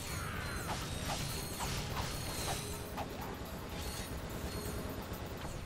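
Ratchet & Clank game audio from a PS2 emulator: a dense, steady bed of mechanical clanks, creaks and ratcheting clicks, with repeated sharp metallic hits at a loose rhythm over continuous low rumble.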